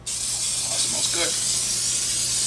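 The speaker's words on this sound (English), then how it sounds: "Then I'm going to take this butter spray," A can of butter spray hisses steadily onto popcorn kernels on a stovetop, one continuous close aerosol spray lasting a couple of seconds with no pauses.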